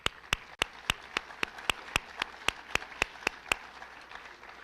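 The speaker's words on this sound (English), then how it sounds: "I'd just like to applaud that." Sparse applause at a school board athletics recognition ceremony, a handful of sharp, evenly spaced claps ringing out close, like one or two people clapping steadily.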